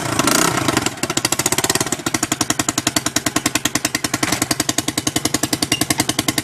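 A Baja Dirt Runner 125 dirt bike engine runs with a leaking exhaust pipe, making a loud, close, rapid hammering putter that pulses evenly throughout.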